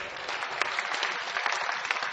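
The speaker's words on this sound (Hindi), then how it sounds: "कमजोर तालियां एक बड़े कवि के लिए आपकी बड़ी तालियां होना चाहिए।" Audience applause at a mushaira, an Urdu-Hindi poetry gathering, a dense continuous wash of clapping from a crowd, steady and moderately loud throughout.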